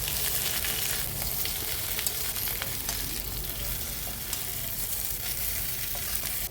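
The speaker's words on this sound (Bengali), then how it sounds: "আমি ওকে বলছি আর নাড়িস না অনেক ভাজা ভাজা হয়ে গেছে" Vegetables for Bengali shukto fry with a steady, dense sizzle in a pan, stirred throughout with scraping and clinking, continuous and fairly close for the whole stretch.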